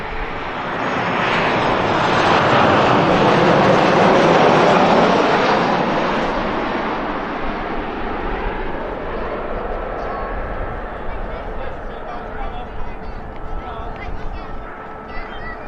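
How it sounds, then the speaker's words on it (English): At Manchester Airport, an airliner arriving from Milan touches down, a broad loud engine roar that swells and then slowly fades with a rushing wash. "the aircraft just touching there was the aircraft from Milan"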